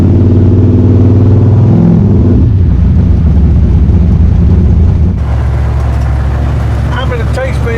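A 1974 Chevrolet Nova with a loose torque converter driving hard, a loud, close, droning engine roar that shifts pitch as it revs and pulls, with someone talking over it.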